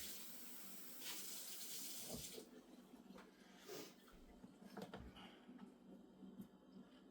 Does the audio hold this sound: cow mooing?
no